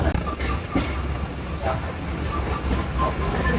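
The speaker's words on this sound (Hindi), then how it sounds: "ये गुजरांवाला रेलवे स्टेशन से हमारी ट्रेन भी चल पड़ी है।" A passenger train pulling out of Gujranwala railway station in Pakistan, heard from on board as a steady rumble and rattle of the carriages with faint clatter throughout, close and continuous.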